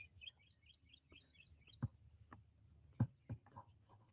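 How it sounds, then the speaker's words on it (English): Birdsong outdoors near a house: a run of soft, quick chirps and tweets early on, faint against the ambience, with a few louder thumps breaking in later. "Do you guys hear the birds singing?"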